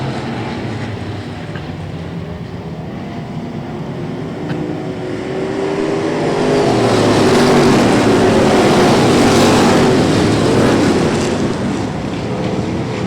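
Pure stock race cars roar along the backstretch at Brownstown Speedway, a loud, continuous engine drone that swells and holds steady as the pack passes, with crowd and track noise mixed in.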